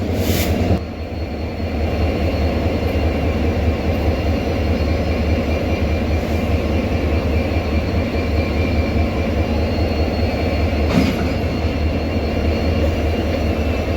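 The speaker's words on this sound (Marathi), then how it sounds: "कॅसल रॉक रेल्वे स्टेशनवरती आपली ट्रेन आलेली आहे." Poorna Express from Pune to Ernakulam stands at Castle Rock railway station with banker engines attached for the ghat section, a loud steady locomotive engine rumble and hum continuing without break, no talk.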